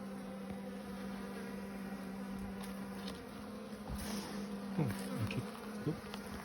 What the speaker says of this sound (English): There's some bees showing me a little bit of interest now